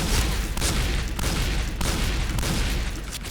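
An M1887 lever-action shotgun fires in a shooting video game, giving a dense, continuous barrage of loud blasts and booms with no pause, close and heavy.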